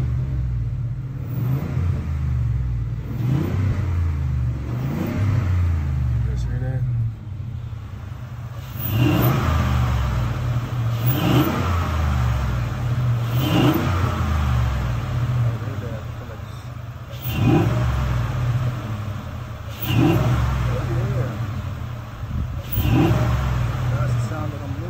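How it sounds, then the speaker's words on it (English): Engine of a fishing truck revving repeatedly, with a loud intake sucking whoosh on each rev over a steady idle rumble; recorded from inside the cabin, close and prominent, with a voice speaking at times. "it's got like that sucking sound of all that intake in"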